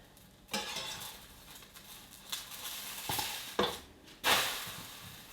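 A sourdough starter pancake being turned over in a frying pan, with a soft steady sizzle, a few scraping clinks of a utensil against the pan and a sharper clatter as it flips.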